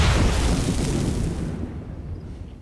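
Fire set in Assassin's Creed 4 Black Flag sets off a loud, deep explosion whose rumbling boom fades gradually over a few seconds, heard alone without talk.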